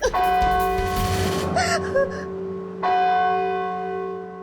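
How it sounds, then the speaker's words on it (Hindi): A ringing bell in a horror drama sounds two clear strikes, each leaving a long shimmering decay. A short gasp-like vocal sound comes between the strikes. "घंटी सुनी तुमने?"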